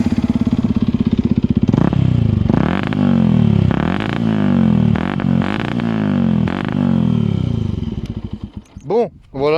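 A Yamaha WR125X motorcycle's single-cylinder engine fires up and revs repeatedly, loud and close, each throttle blip rising and falling, before a few sharp revs and a stuttering finish as someone speaks nearby.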